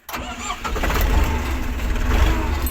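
A car engine fitted with a Chinese replacement part is started with the key: a brief crank catches almost at once and settles into a loud, steady, close idle that rumbles on to the end, with no voices.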